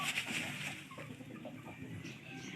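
Fighting rooster clucking close by over a dense, noisy farmyard background, with a few short bursts of fowl calls.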